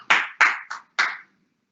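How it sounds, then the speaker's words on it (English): Four crisp claps with uneven spacing, close and fairly loud, after an online strength workout, fading into silence. "Give yourselves a big clap."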